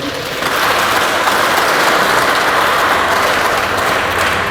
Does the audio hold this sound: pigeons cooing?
no